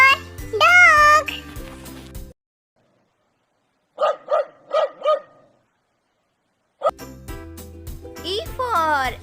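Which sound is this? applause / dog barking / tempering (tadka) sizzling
dog barking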